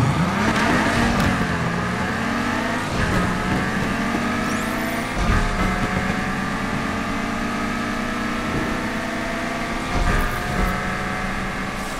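Nissan 180SX engine revving hard through repeated upshifts during a drag race in Need for Speed Unbound, each gear climbing in pitch before a sharp drop, loud and continuous for the whole stretch.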